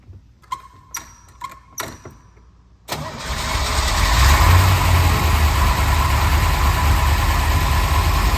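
A 1964 Corvette C2 fuel-injected engine cold starts at 78 degrees: a few short cranking clicks and whirs, then it catches with a roar and settles into a loud, steady idle.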